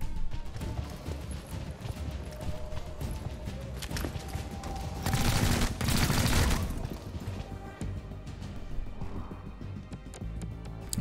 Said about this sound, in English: I'm taking a lot of shots.